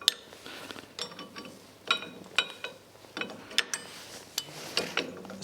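A special bent wrench works awkwardly placed bolts at the front of a Formula Konick race car, making a close, quick series of metallic ratcheting clicks in uneven bursts.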